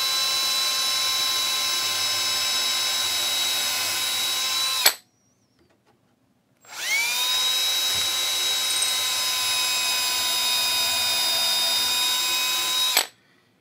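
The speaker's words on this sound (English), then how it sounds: "if you don't pre-drill it, it's going to most likely split and won't help you out at all" A power drill pre-drills two holes into wood for a small HO scale model railroad layout backdrop, running steadily at high whine for about five seconds, pausing briefly, then spinning again for another six seconds, close and loud with no talk.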